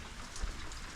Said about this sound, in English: once this rain gets out of here